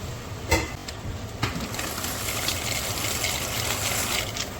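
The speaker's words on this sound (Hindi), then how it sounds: "जब देखते हैं हमारा पानी वैसे तो बॉयल हो चुका है" Water for pasta boils in a home kitchen pot, a steady close bubbling and hissing roll with a couple of sharp knocks near the start.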